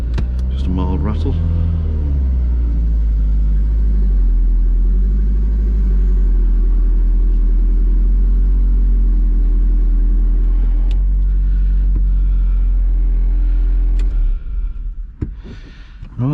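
Audi TT MK1 turbo engine with a gasket fault idling loudly up close, a heavy low rumble with a mild rattle, easing off near the end; a voice talks over it.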